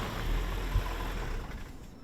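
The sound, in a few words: Land Rover Defender mild hybrid engine restarting via stop-start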